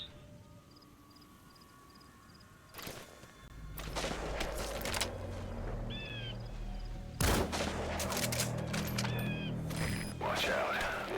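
Gunfire bursts in Metal Gear Solid V: The Phantom Pain, sharp broadband shots at about three, four and seven seconds followed by dense rumbling combat noise, siren-like tones and a voice talking over the action.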